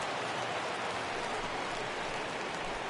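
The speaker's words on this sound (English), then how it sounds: "it doesn't appear that we're going to get much of a break from this rain at all as the game progresses" Steady rain falls throughout a baseball game in MLB The Show 20, a dense, even hiss of drops that runs unbroken from start to finish, with no voices over it.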